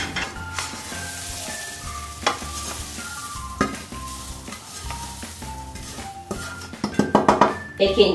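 Spoon stirring and scraping cooked samosa filling with coriander in a pan while tipping it onto a plate, steady close clatter of metal on pan with a faint sizzle, sharper clinks bunching toward the end.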